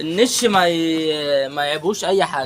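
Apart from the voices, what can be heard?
None of the usual background noises is heard.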